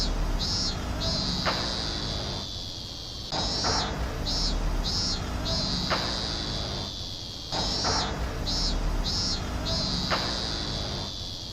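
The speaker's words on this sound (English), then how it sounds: "it's the fucking sound of the cicadas during the school scenes." Cicadas from an anime sound effect buzz and chirp in a loud, shrill, repetitive drone that cycles through pulsing bursts and brief dips.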